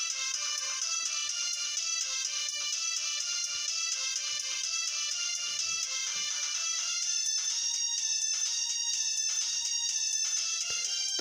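Repaired popcorn-style electronic vehicle horn powered from 12 volts, playing a continuous bright, high-pitched warbling melody at steady loudness, with no talk.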